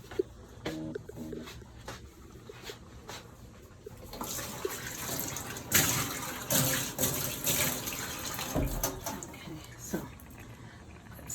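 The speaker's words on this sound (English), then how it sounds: "let me gather some water" Water runs from a tap for cooking rice, starting softly and then pouring more fully, with clattering and faint handling noises mixed in.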